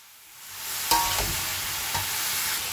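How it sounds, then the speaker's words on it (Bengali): Spices with salt and turmeric hit a hot pan and start frying, a sizzle that swells quickly and then holds steady, broken by a sharp stirring scrape near the start and another lighter one later. "এবার এটা ভাজা ভাজা করে নেব"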